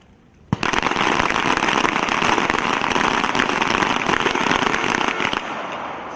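A team of shooters fires pistols together in a U.S. Army small arms championship team pistol match: after one sharp opening shot, a dense, continuous crackling barrage of overlapping gunfire lasts about five seconds, loud, then stops abruptly.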